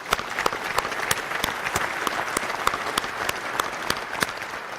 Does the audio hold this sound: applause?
yes